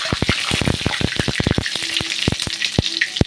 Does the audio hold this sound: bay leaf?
yes